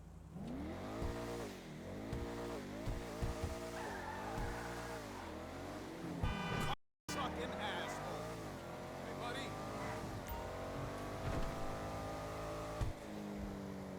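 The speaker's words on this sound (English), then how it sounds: "let's take a listen to this thing." Gallivanter Baller ST-D SUV engine in GTA Online revs repeatedly in rising and falling sweeps, then a steady drive with shifting engine pitch, with a brief cut midway.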